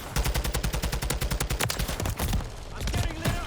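Full-auto fire from a TAQ 56 rifle in a Modern Warfare 3 multiplayer match: a fast, steady stream of loud, close shots for about two seconds, followed by rougher, noisier bursts of shooting.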